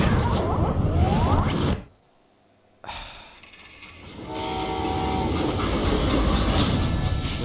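Train rumbling along with a horn blast in the Western shooter game Call of Juarez: Gunslinger, loud and continuous, with a brief near-silent drop before the clattering and whistling resume.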